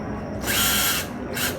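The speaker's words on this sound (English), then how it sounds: "we're going to take a sander and sand off the edges" An electric power sander whirs against the edges of handmade ornaments, a bursting high buzz that runs for about half a second, drops, then briefly starts again, loud and close.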